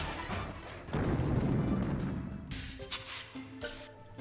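Explosions from the N64 game Mischief Makers: a dense run of booming blasts for the first seconds, easing into lighter game effects and tonal chimes toward the end, loud with no talking.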